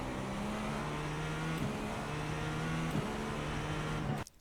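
A GTP race car in the iRacing game at Long Beach has its engine under power, a steady droning tone that holds loud and even for about four seconds with no voice over it, then cuts off sharply at the end.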